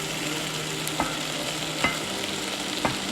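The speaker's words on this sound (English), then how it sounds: "And now we'll add the chorizo back. Get all those juices." Chorizo goes back into a pot of Iberian-style chicken soup, giving a steady sizzle with a few sharp scrapes of stirring spaced about a second apart, close and moderately loud with no talking.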